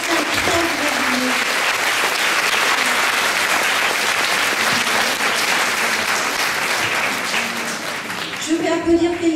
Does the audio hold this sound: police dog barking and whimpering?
no